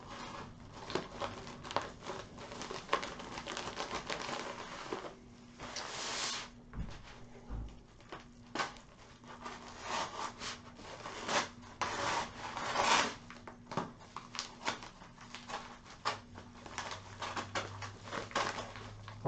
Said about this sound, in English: cut the tape up.